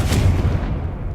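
Confringo fire spell blast in the Hogwarts Legacy video game, a single short booming burst that fades quickly, loud and close.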